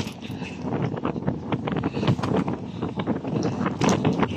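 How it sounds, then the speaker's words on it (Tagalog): Strong gusting wind buffets the microphone on the Binondo–Intramuros Bridge, loud uneven rushing bursts without talk. "Nasisira na sa sobrang lakas ng hangin."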